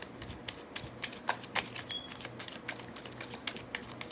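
Tarot cards are shuffled back into the deck in quick, soft riffling bursts, close and fairly quiet, repeating steadily throughout with no talking.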